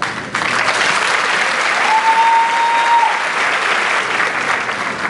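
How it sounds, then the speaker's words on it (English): Sustained, loud applause from a large crowd fills a school opening-day gathering as staff stand to be recognized, a dense wall of clapping with a brief tone sounding underneath. "East Heights staff, please stand as we applaud you for your commitment to greatness."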